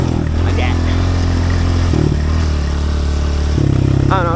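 A pit bike rides a dirt track with jumps, its small engine droning loud and steady, with a gear shift near two seconds and a rise in pitch near the end.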